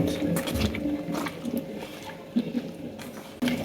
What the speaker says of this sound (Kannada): ಒಂದು ಲೆಮನ್ನು ಹಿಂಡ್ಕೊಂಡು ಇದಕ್ಕೆ ಇದನ್ನು ಕರೆಕ್ಟಾಗಿ ಈಗ ಮಿಕ್ಸ್ ಮಾಡ್ಕೊಂಡು